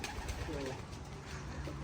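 Racing pigeons in a loft coo softly in a few low, rolling calls over a steady background hum.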